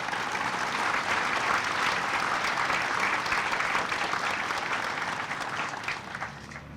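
An audience applauds steadily at a ribbon-cutting ceremony for a grid storage facility as Senator Maria Cantwell comes to the podium, a dense continuous clapping that fades slightly toward the end.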